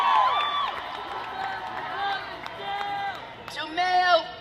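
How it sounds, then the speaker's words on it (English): A rally crowd in New York cheers and whoops in shrill rising shouts at moderate distance, under and between spoken words, swelling louder near the end. "And they all scream and cheer for it."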